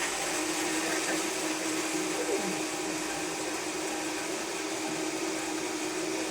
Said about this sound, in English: All right, it's blending right now.